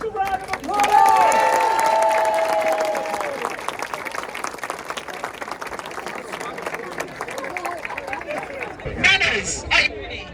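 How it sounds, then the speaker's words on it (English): Outdoor applause from parkrun runners gathered in Bushy Park: many hands clap with cheering and lively crowd chatter mixed in, tapering off and then flaring briefly near the end. "give yourselves a round of applause!"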